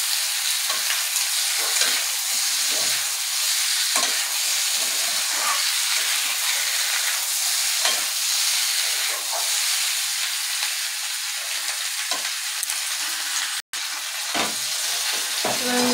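Potatoes and cauliflower sizzle in hot oil with cooked-down spices, a steady dense frying hiss throughout, broken by repeated soft scraping stirs and a brief clink near the end; no talking.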